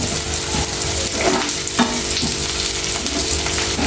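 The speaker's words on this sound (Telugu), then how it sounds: "మంచిగా ఇట్లా ఫ్రై చేసుకోవాలి" Sliced onions frying in a pan, a loud steady sizzle with occasional stirring scrapes and a light clink partway through.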